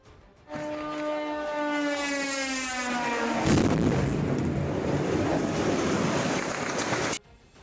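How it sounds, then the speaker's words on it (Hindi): A drone whines with a descending pitch, then a loud explosion bursts as it strikes buildings, a sustained roaring blast that cuts off abruptly. "ड्रोन सीधा जाकर कुछ इमारतों से टकरा गया, जिससे वहां भयंकर धमाका हुआ।"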